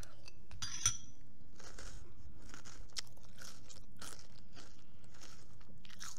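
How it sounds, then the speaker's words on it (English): Crunchy bites of yogurt being eaten close to the microphone, a series of irregular crisp crunches with faint clinks, no talking. "If you hear crunching, that's me eating"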